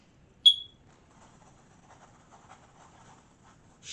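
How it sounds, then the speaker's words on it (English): A home smoke detector gives one short, shrill beep, then quiet room tone with faint rustling follows until a second chirp begins at the very end. "I believe my smoke detector is trying to communicate with me."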